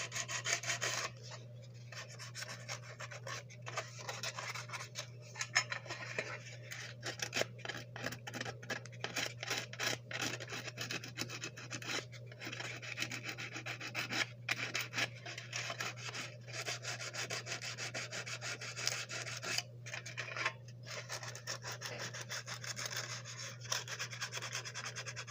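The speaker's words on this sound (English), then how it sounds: "don't be afraid to use the steel wool. Steel wool works wonders." Steel wool rubbing scratches out of a Marx M10005 model passenger train car, a faint dry scrubbing in quick irregular strokes over a low constant hum, with no talking.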